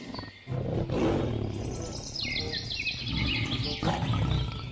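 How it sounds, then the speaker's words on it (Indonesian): A toy lion lets out a loud, close electronic roar lasting several seconds, with chirpy bird-like calls mixed in from the toy's sound effect. "ini hewan singa"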